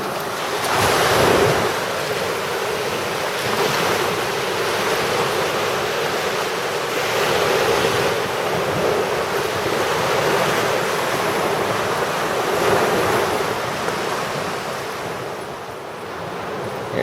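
Surf breaking on a beach beside a cliff, with waves washing in and splashing in repeated surges over about seventeen seconds and gusting wind roaring across the microphone throughout.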